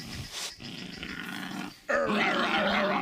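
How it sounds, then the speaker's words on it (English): A dog's low, throaty growl rumbles close by, rising into a louder, rougher snarl that continues steadily through the second half. "you can hear the dog."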